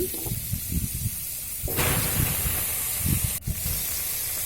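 Potatoes dropped into a hot kadai break into a loud, steady sizzle and hiss that swells sharply and holds, with a brief clatter near the end.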